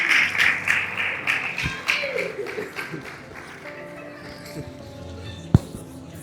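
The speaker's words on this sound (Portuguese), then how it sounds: "Uma salva de palmas para o pastor Bruno." Church audience claps for a pastor, starting with sharp, scattered hand claps up front that thin out into sparse taps and room noise, with a few faint voices and one loud thump near the end.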